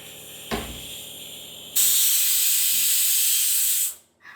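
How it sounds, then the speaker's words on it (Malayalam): A pressure cooker with lentils and beef inside vents steam in a loud, steady hiss lasting about two seconds and then cutting off abruptly, after a quieter stretch with a brief knock near the start. "അപ്പോൾ പരിപ്പും ബീഫും കുക്കറിലായിട്ടുണ്ട്."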